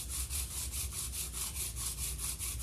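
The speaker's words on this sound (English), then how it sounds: "this is a 80 grit hand sandpaper, and all I'm going to do is rub it on the raised areas" Rhythmic back-and-forth rubbing of 80 grit sandpaper by hand on a painted wooden coffee table, about ten steady raspy strokes, close and quiet with no talking.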